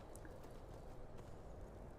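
Faint, quick clip-clop of a horse named Frost galloping in Skyrim, a soft rhythmic patter of hooves in the distance with no talking.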